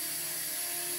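A Holy Stone HS340 mini drone hovers indoors near a coffee table, a steady high-pitched propeller whine held close and constant through the brief moment, with no talk.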